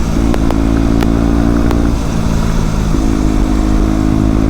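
A motorcycle is ridden along a green lane, its engine a loud, steady, close drone with constant rumble and wind, without speech.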